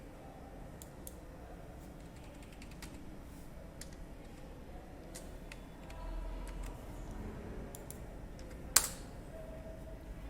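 Soft, quiet keystrokes on a computer keyboard as Java code is typed, with scattered irregular clicks over low room noise and one sharper tap near the end.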